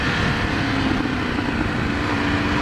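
A 2018 Ducati Scrambler 1100 motorcycle engine on deceleration gives a steady, close, low burble under constant wind and road roar, with no distinct pops standing out.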